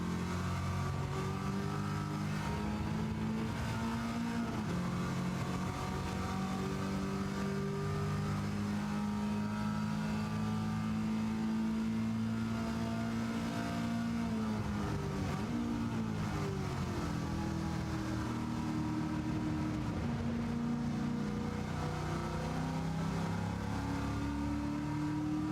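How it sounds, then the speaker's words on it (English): A race car's 350 engine in a racing video game drones and revs continuously, its pitch climbing and dipping with throttle and gear changes, loud and steady throughout. "Got that 350 sounds nice. Doesn't it? I love the engine in it."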